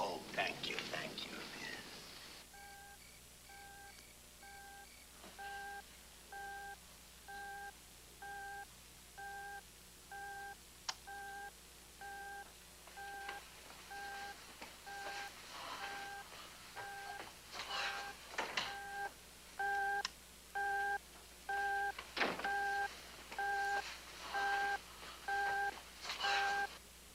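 Telephone dialing tones in a 1972 TV episode: a long sequence of evenly spaced beeps repeating in a steady rhythm, with faint rustles and murmurs beneath and occasional louder bursts.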